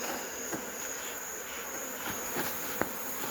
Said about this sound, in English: The colony of these bees has increased.